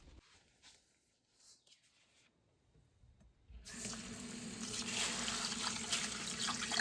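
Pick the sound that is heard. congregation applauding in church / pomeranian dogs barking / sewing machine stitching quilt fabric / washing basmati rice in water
washing basmati rice in water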